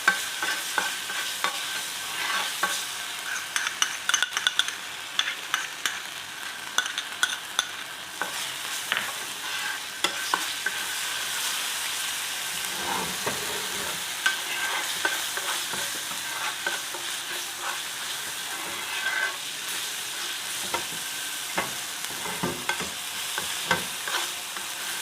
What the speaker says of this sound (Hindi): इसमें हमने ये ऐड कर देना है जिंजर गार्लिक पेस्ट। तो थोड़ा सा हमने फ्राई करना है।